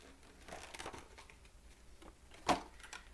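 Plastic and cardboard packaging of a Resistance transport X-wing model being torn open, close crinkling and rustling with one sharp loud rip near the end.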